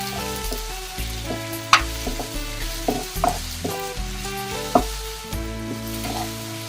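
Tomatoes cook down with Kolhapuri masala in a hot pan, giving a continuous close sizzle with occasional stirring knocks over a steady tonal background hum.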